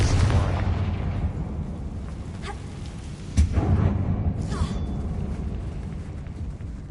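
A Confringo explosion spell cast in Hogwarts Legacy inside an abandoned mine tomb: a sharp blast near the middle over a dense, continuous rumbling roar, with fainter crackling bursts following.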